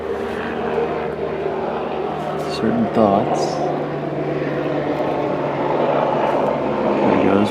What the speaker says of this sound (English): Enemy helicopter coming in